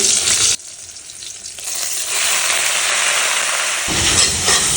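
Leafy greens fry with nigella seeds in a pan, a loud close sizzle that drops briefly, then swells back to a steady, dense crackling hiss.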